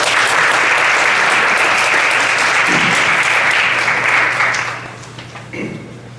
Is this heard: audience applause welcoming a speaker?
yes